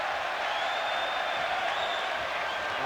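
A basketball arena crowd reacts to an air ball at a 1993 Rockets–Warriors NBA game, a sustained broad roar of voices with whistling and jeering, steady and loud for a few seconds.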